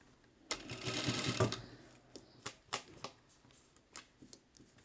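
A sewing machine stitches two fabric pieces together, close by. It opens with a one-second burst of rapid stitching, followed by scattered short clicks and brief runs of the mechanism.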